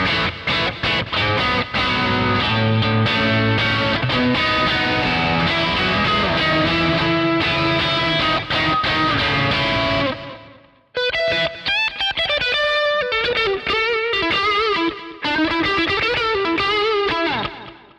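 Electric guitar through a Kemper clean amp profile with a Klon overdrive pedal in front, played on a Strat: full strummed chords ringing loud and sustained, then a brief gap and more articulated, note-by-note picking, with no talk.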